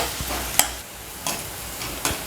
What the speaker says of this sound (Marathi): आता हा जो कांदा आहे तो आपण मऊ होईपर्यंत परतून घेऊया